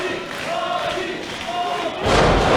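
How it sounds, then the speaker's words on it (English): A crowd murmurs and shouts around a ring in a street-fight wrestling match, then a loud impact and swelling roar hit near the end as one wrestler takes a flying clothesline from Bobby Schink. "Huge flying clothesline."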